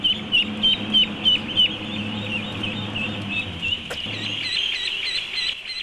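Ducklings and other fowl call in a crowded, enclosed duck farm, a dense chorus of repeated high peeps and squawks going on throughout, fairly close, with a low machine-like hum underneath for most of the time.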